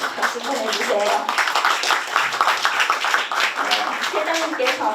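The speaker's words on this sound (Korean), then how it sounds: "선생님 오셨습니다. 박수 보내주세요." Dense, continuous clapping from the audience at the 17th May Mothers' Award ceremony, a lively, even patter throughout with voices mixed in beneath it.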